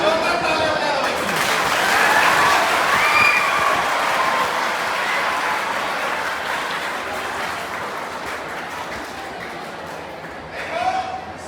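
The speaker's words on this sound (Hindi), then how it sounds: "जोरदार ताली बजा दो भाई" Audience clapping loudly at a live stage event, a broad wash of applause that swells then fades, with voices and shouts mixed in over it and a brief burst near the end.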